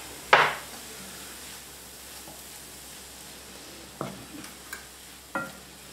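Apple pieces sizzle softly in a pan while a utensil scrapes and taps against it a few times, with a louder clatter at the start.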